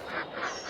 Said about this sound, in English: Ducks will produce eggs